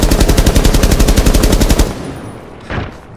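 Rapid automatic gunfire in the video game Rainbow Six Siege, a loud fast stream of evenly spaced shots lasting under two seconds, then stopping, followed by quieter trailing noise and a faint later shot.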